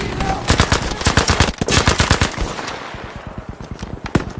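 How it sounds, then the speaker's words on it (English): Enemy machine gun fire in a video game, set aboard a boat, rattles out in rapid, loud sustained bursts close by, thinning into scattered shots toward the end. "There, enemy machine gunner."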